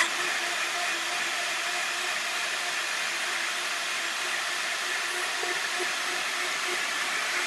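Blender or food processor whizzing cashews with a few splotches of cayenne into vegan cheese, a steady continuous high whirring hiss held at even loudness throughout, with no talk.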